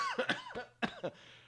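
A person coughs about three times in two short bursts, close and fairly loud, with a brief throat rasp trailing off at the end.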